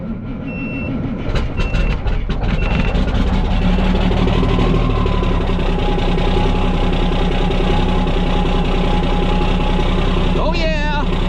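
A diesel truck engine cranks and fires, then runs loudly at a steady rough idle close by, with a voice speaking over it near the end.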